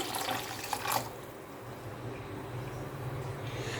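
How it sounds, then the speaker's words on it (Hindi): Half a litre of water poured into a pot of kadhi, a brief louder gush and splash at the start settling into a quieter steady flow, close by with no talk. "मज़ीद इसमें 1/2 लीटर पानी और डालूँगी।"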